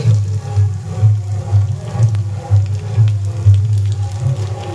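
Kashmiri chili powder added to hot oil while frying potol, a loud close sizzle with a low bubbling rumble that swells and eases, no talk.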